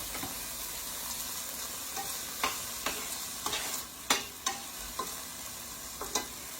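Carrots and peas fry in oil in a pan for chicken fried rice: a close sizzle with repeated stirring scrapes and light clacks against the pan, quiet and without talk.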